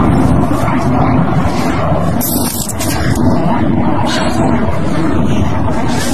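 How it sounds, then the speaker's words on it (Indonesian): A steady, loud mechanical rumble with wind-like roar throughout as a helicopter passes overhead, with no talking. "Kembali pada Scott, ia pun terbangunkan oleh suara helikopter yang melintas"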